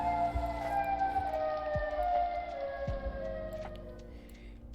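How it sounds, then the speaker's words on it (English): A wailing siren in the Cities: Skylines city-building game, with a steady, layered tone and slow pitch glides over a constant low city hum. "And the siren we can hear."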